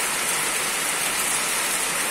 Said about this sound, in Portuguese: Muita chuva agora, né? Tempo de chuva.